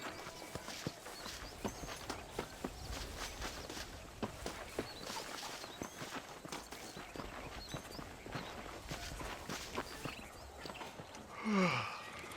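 A horse's hooves clip-clop steadily at a walking pace while a rider travels along in the Red Dead Redemption video game. The hoof beats are close and even, with a short burst of other game sound near the end.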